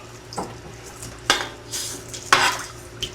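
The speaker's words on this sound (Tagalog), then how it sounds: "Haluin lang ng konti." A spoon stirs black pepper into the broth of pocherong manok in a pot. Three or four distinct scraping, clinking strokes sit over a quiet simmer, close and alone.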